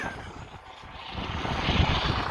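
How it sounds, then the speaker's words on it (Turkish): Helicopter over a canal rescue scene in Utrecht, Netherlands, heard as a steady, broad rotor and engine rumble that swells slightly as it passes, with no voices. "Helikopter de oradan."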